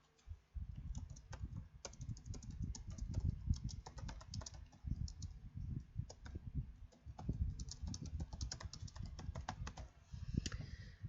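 Rapid typing on a computer keyboard, a dense, uneven run of close clicking keystrokes with short pauses, heard alone and fairly quiet.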